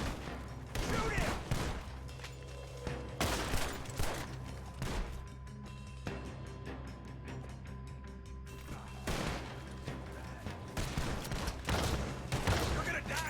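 Gunfire in Red Dead Redemption 2, a shootout with bursts of shots and impacts that swell and fade in clusters over several seconds, with voices shouting in between.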